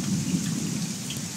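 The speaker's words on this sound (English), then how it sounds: "that's thunder in the distance with the storm coming." Distant thunder from an approaching storm rolls as a low, steady rumble beneath a rain-like hiss, continuous and fairly faint.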